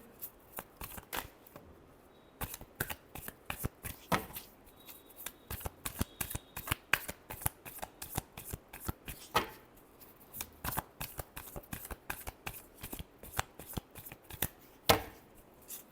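Tarot cards being shuffled by hand, with repeated crisp riffling bursts and sharp flicks at a quick, irregular rhythm throughout, close up and fairly quiet, with no voice.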